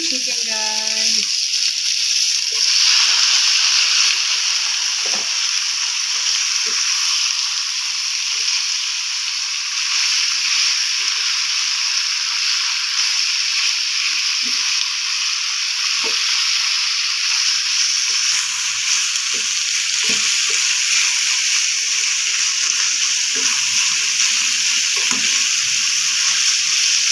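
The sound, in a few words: chicken frying and sizzling in a pan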